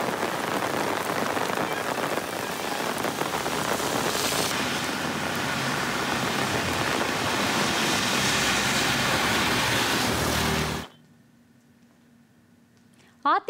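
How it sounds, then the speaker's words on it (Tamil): Heavy rain pours steadily on surfaces with gusting wind for about eleven seconds during a cyclone-strength storm, then cuts to near silence with a faint tone and a brief sound at the end. "பலத்த சூறாவளி காற்றுடன் 1 மணி நேரத்திற்கும் மேலாக மழை பெய்தது"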